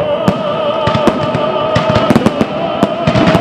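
A festive fireworks salute bursts over Kuibyshev Square in Samara at the close of a concert, sharp irregular cracks and pops ringing out repeatedly over a steady background hum.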